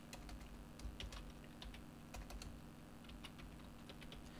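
Fingers tap a computer keyboard with soft, quick, irregular clicks, typed close by but faint over a low background hum.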